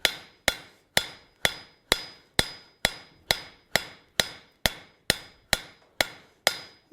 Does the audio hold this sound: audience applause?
no